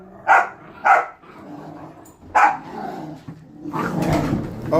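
Golden retriever puppies play-wrestle, giving three sharp close barks spaced a second or so apart, then a rising stretch of growling and scuffling.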